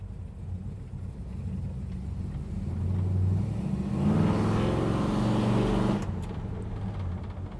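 A 1965 Plymouth Belvedere II hardtop's engine pulls under throttle, a low rumble swelling for a couple of seconds as it accelerates, then easing back to a steady idle-like drone, heard from inside the car with no talk.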